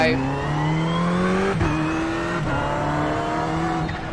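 A race car laps Laguna Seca in the iRacing simulator, its engine a sustained rising whine with brief gear-shift dips, heard close and steady throughout.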